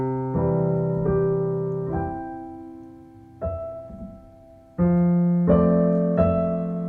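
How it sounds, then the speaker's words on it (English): Piano playing the second part of Clair de Lune in a simplified beginner arrangement, slow sustained chords and melody notes ringing out one after another, alone with no talk. "The second part sounds like this."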